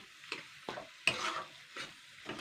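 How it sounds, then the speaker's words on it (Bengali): Shrimp paste and pointed gourd peel paste frying with a spoonful of Maggi masala, a quiet sizzle broken by repeated stirring scrapes and clinks of a spoon against the pan. "এবারে এটাকে আমি কিন্তু ভালো করে ভাজবো"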